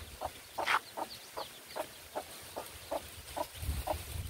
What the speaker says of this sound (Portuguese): Já tem uma galinha cheia de pinta.